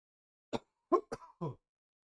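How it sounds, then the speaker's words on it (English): Four short, sharp coughs in quick succession, close to the microphone, with brief pauses between them and silence before and after. "Sorry about the cough there."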